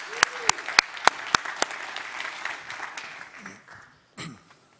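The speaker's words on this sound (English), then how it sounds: "Please welcome, with a huge round of applause," An audience at a TEDx climate conference applauds to welcome a speaker, starting with a few crisp, distinct claps that swell into a brief round of clapping before fading and stopping.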